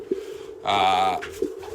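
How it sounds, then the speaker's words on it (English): Pigeons coo at a loft on the morning of a race fly, a few soft low calls close by with a steady harmonic tone at the centre, set against background noise. "But I promise you today these pigeons are gonna trap"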